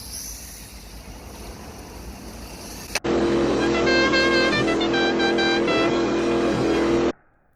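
A WL toys K989 RC car driving outside: a loud, high electric motor whine starts abruptly after a quiet stretch, holds steady with small pitch shifts for about four seconds, then cuts off sharply.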